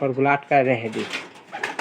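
A pigeon coos in two short, close calls, then someone talks nearby.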